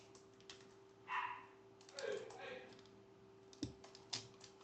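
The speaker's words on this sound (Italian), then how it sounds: "Oh, pure il cane ci si mette." A dog gives a few short, fairly faint barks amid computer keyboard typing and clicking, over a steady low electrical hum.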